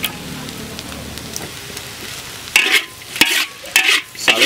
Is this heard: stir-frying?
yes